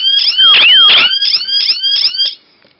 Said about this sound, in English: And then the alarm will go off. And it is really loud.